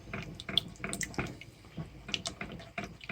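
A kitchen tap runs water for cooking a vegetarian Rogan Josh, splashing and gurgling irregularly into a container, close and moderately loud.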